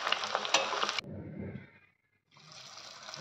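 Cornflour-coated paneer pieces fry over a low flame in a pan for chilli paneer and are stirred, giving a close, hissing scrape-and-sizzle that stops briefly midway and then resumes.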